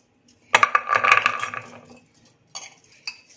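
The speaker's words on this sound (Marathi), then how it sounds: "आता आपण कुकरमध्ये भोपळ्याच्या फोडी घालूया." Chunks of red pumpkin tipped into a metal pressure cooker, a short burst of clattering metallic clinks followed by a couple of lighter knocks, close and clear with no talking.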